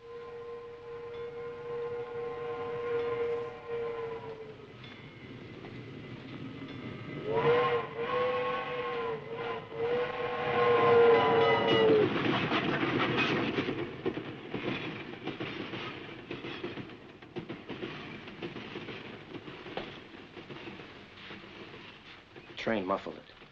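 A train's long whistle blasts several times, then the heavy rumble and clatter of the train rolling past fills the scene, with voices underneath.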